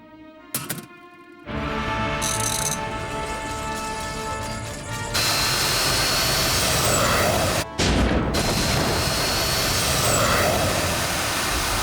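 A cartoon flying machine powers up for takeoff, a sustained mechanical whirring and roaring drone with rattling clatter, steady and loud, briefly cutting out before surging back.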